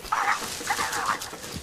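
A puppy gives a couple of short, high yipping barks close by, quick and bright, with no talk over them.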